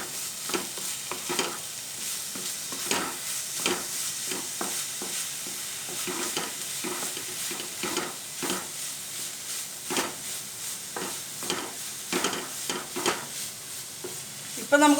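Carrot and beetroot thoran with grated coconut being stirred in a pan, a steady series of close scraping spoon strokes over a soft sizzle, with no talking.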